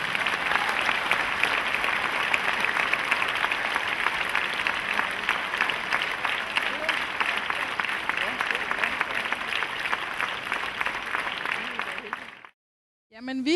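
Sustained audience applause at an award ceremony for an integration prize, dense even clapping from a large crowd lasting about twelve seconds before cutting off abruptly.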